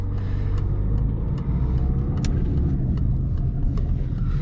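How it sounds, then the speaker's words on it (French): A car making a hill start on a driving test route near Château-Gontier, engine rumbling steadily and close throughout as it pulls away, with no talk over it. "Je prépare mon démarrage en côte. Embrayage, accélération."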